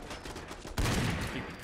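Sniper fire from a modded L96A1 sniper rifle in Fallout 4: a single loud, booming shot cracks out partway through and rolls into a long echoing tail over faint background noise.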